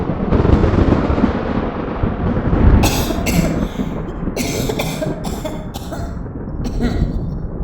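A grandmother in an animated Tagalog horror story coughs repeatedly in a series of sharp, close bursts over a dark, rumbling background.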